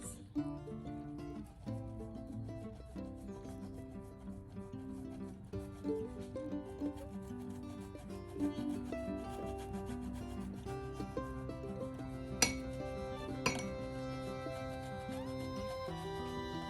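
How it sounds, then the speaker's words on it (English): Cheese grated by hand for a baked zucchini and garlic dish, heard as a steady run of rasping, rubbing strokes under a continuous tonal backing, with a couple of sharper scrapes near the end. "And you need to grate your cheese."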